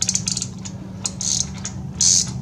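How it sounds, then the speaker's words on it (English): Ratchet loosening a bolt on a 2006 GMC Sierra wheel hub assembly, a few short sets of clicking pawl turns with quiet pauses between them, close and fairly loud, with no talk. "we'll put our wrench here on the inside and a ratchet on the outside"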